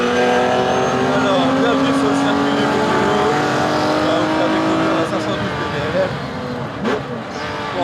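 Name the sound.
racing cars on a circuit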